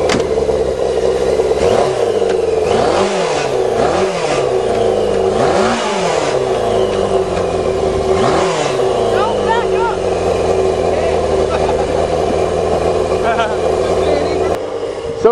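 A motorcycle-powered dune buggy revving hard with repeated rising and falling engine pitch as it runs through the gears, loud and close, with voices talking over it.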